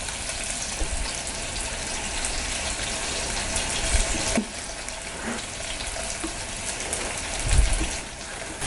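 Small onions and garlic cloves sauté slowly in a pan, giving a continuous, fairly loud hiss with a few soft knocks from stirring along the way.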